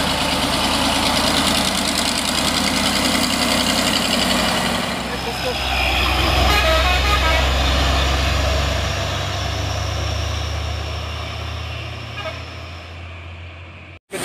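An old Fuso truck engine labours uphill with a loud, heavy, continuous drone that deepens partway through as the load builds, then fades out at the end, with a voice talking over it.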